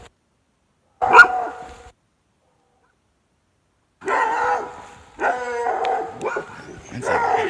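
A dog on a roadside barks loudly nearby in a few separate bursts, one short bark, then a run of barks after a pause.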